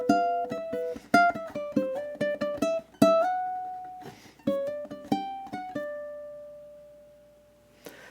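Ukulele picking the interlude of a song, clear plucked notes in a lilting rhythm, played alone and close, ending on a long ringing note that fades out.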